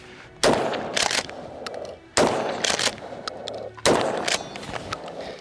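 Three loud FN Tactical Police Shotgun blasts firing slugs outdoors, each a sharp close report with a ringing tail, spaced roughly one and a half to two seconds apart.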